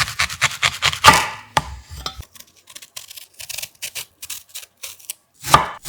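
A knife slices a pear on a cutting board in a string of crisp, close chopping strokes, some sharp and some light, with short gaps between them.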